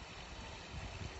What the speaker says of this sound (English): It's a waterfall and koi pond,